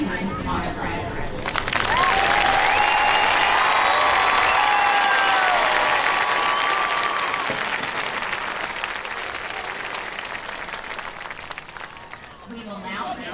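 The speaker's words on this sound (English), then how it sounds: "Please join me in a round of applause for the 2025 Fannin County High School honor graduates." Sustained crowd applause for the 2025 Fannin County High School honor graduates at a graduation ceremony, swelling after a quiet start, staying loud and dense for several seconds, then slowly thinning near the end.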